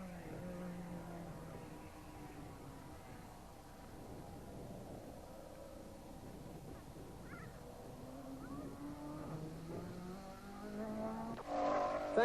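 A 1957 Formula 1 race car at the Reims French Grand Prix accelerates flat out through the gears, its engine note climbing in rising tones at moderate distance, steady and swelling louder near the end.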